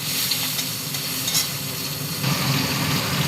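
Steady sizzle of prawns frying in hot oil with bay leaf, dried chilli and cumin, a continuous close crackle with light stirring and no talk.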